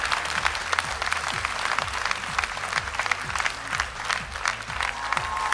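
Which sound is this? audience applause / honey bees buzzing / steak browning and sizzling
audience applause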